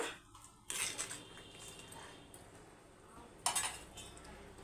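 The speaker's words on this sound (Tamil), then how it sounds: "இப்போ மூடி வச்சிடலாம்" A metal lid clanks down onto a pot of brinjal curry twice, a few seconds apart, over quiet kitchen background noise.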